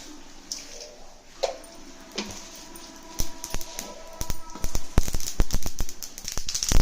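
Mustard seeds, green chillies and curry leaves splutter in hot oil in a kadai for cabbage chana dal curry; sharp close pops start sparse and build into a dense crackling burst.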